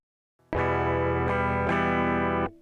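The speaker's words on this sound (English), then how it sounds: "a classic setup of a compressor going into an amp going into a chorus effect" Electric guitar played through a compressor, amp and chorus effect on an Akai MPC One: a strummed chord rings loud and sustained, re-struck twice, with a shimmering chorused, slightly driven tone that cuts off after about two seconds.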